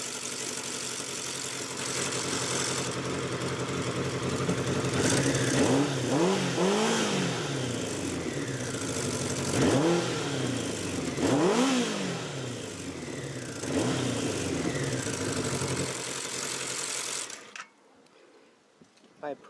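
A 1983 Honda CB650SC four-cylinder motorcycle engine idles loudly nearby after a carb sync, with several quick throttle blips rising and falling before it cuts off near the end.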